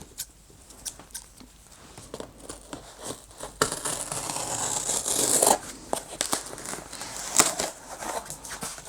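Album package being unboxed, packaging crinkling and tearing with scissors snipping, scattered close rustles and crackles growing denser and louder midway, with no talk.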